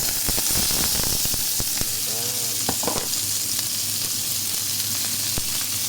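Red and green bell peppers sauté in a pan for a menudo with chicken smoky sausages, giving a steady close sizzle with scattered clicks and stirring scrapes, over a brief faint voice.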